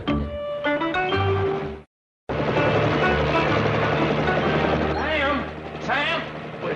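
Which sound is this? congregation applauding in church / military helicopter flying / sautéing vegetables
military helicopter flying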